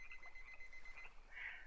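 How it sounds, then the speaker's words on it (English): In the game Wurm Unlimited, a timer alarm rings as a faint, continuous high electronic tone, swelling briefly near the end over low background noise. "there goes the timer"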